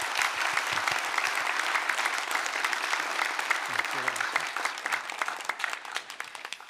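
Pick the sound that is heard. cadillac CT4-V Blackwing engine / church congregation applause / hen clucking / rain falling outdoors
church congregation applause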